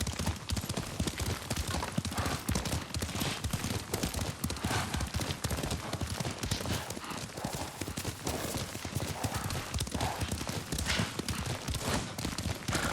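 Steady rhythmic clip-clop of galloping hooves with a horse snorting now and then, dense and continuous over a busy soundtrack from the video game Ghost of Tsushima.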